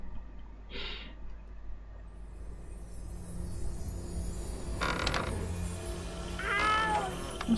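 High, wavering mewing cries like a cat's, voiced by children in the Testament of Sherlock Holmes game, in three short separate bursts over a low steady background hum.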